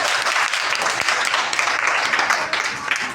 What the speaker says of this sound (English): Well done, clap for him.